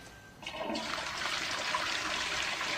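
A toilet flushes with a sudden rushing surge of water that swells and then keeps pouring steadily, close and fairly loud, with no talking over it.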